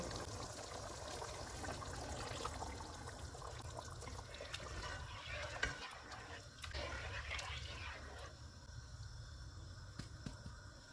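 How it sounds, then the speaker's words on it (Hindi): Milk is poured into a pot of beef malai handi, a faint, steady liquid wash and trickle with a few small clinks, heard close and quiet. "1 कप दूध डालेंगे।"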